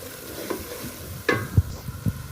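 A spatula stirs and mixes biryani masala in a frying pan for masoor dal biryani, giving scraping strokes and a few sharp knocks against the pan over a faint sizzle.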